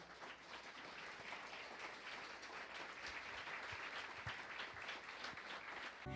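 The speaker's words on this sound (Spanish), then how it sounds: "Un aplauso a la Santísima Virgen María." Sustained applause from a religious congregation honouring the Virgin Mary, a steady dense wash of clapping running through the whole stretch at even loudness with no voices over it.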